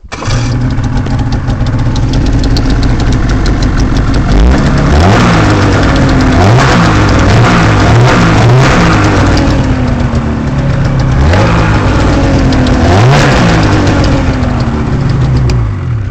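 A Ski-Doo snowmobile engine with electric start fires up and revs hard, loud and close, with repeated rising and falling throttle sweeps over a steady running drone.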